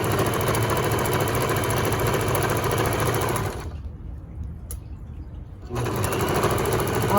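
A sewing machine back stitches fabric for a bib with straps, running in a loud, continuous whirr that stops for about two seconds and then resumes.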